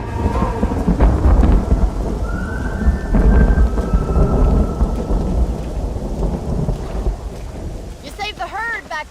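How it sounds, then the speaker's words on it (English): Heavy thunderstorm in the Red Dead Redemption video game, with steady loud rain, rolling thunder rumbles and a rising whistle-like tone, followed near the end by several quick chirping cries. "The storm's getting worse."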